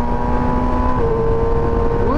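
A close, loud 2021 MV Agusta Brutale 1000 RR inline-four engine holds a high whining rev, then the pitch steps as it shifts and climbs again near the end.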